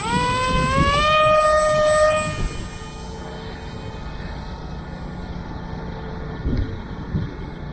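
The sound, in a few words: LDARC Tiny Wing FPV plane motor at launch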